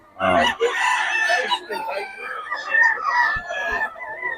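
A pumpkin gold rooster crows nearby at a poultry sale in Bocaue, its call mixed with busy background chatter and other farmyard noise throughout.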